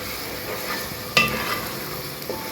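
A spoon stirs softened tomato pieces in a pan, giving a short scrape and clatter midway through a steady background of soft sizzling, with a faint second knock near the end.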